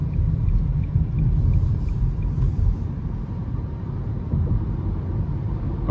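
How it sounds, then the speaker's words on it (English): Inside a 2023 Nissan Leaf SV Plus electric car accelerating up an interstate on-ramp, a constant low road and tire rumble fills the cabin, with a faint high whine riding on top. "we're gonna give it some throttle getting on the interstate here"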